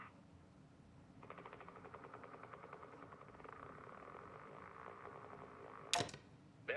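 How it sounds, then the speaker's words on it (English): A failing motorboat propeller from the video game Kentucky Route Zero, heard as a faint, steady rattling whir with a fluttering pulse that starts after a second, followed near the end by a sharp bright burst. "That was a motorboat's propeller failing."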